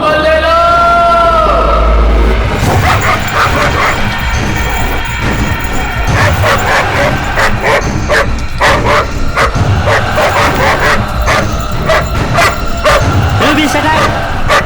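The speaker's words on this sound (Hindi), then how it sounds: "ये आखिर इतना क्यों भौंक रहा है?" A dog in a Tamil action film dubbed into Hindi barks and yips repeatedly in sharp, loud bursts over dramatic background music, with occasional whimpers and voices speaking in between.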